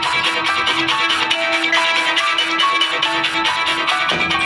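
A phone rings for an urgent call, playing a loud, bright electronic melody that repeats steadily and fills the room with a pulsing rhythm. No voices are heard.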